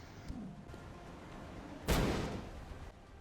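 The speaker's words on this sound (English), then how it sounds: "I have to neutralise them, so flashbang it is" A flashbang grenade goes off in the video game XCOM: Enemy Within: a single loud, sharp blast partway through that decays over about a second against a quiet game backdrop.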